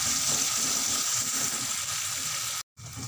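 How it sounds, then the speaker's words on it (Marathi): Onion browning in oil in a pan for tandalachi bhaji, a Marathi greens dish, gives a steady, close, continuous sizzle with no talk, cut off by a momentary silence near the end before the frying resumes. "इथपर्यंत कांदा भाजून घ्यायचा आहे, तांबूस कलर येईपर्यंत।"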